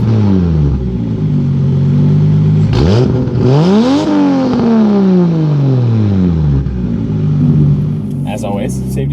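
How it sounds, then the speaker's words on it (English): A car with a 2JZ engine revs hard during burnouts, its loud engine note climbing and falling through several sweeping pulls with a rough, roaring edge, close by and continuous, while people talk over it. "Let's put these Yankees on right now and do some fucking burnouts."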